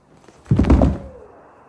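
A door bangs shut inside a house, one loud, heavy thud with a brief ringing tail, heard alone after a quiet moment.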